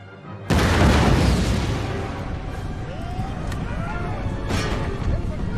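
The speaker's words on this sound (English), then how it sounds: "The amount of damage we're doing is ridiculous with these canister rounds." Cannons firing canister rounds in the battle game Empire: Total War, a heavy boom opening a long roar of battle noise with scattered pops and distant crackle, a second blast following near the end; a voice speaks faintly under it.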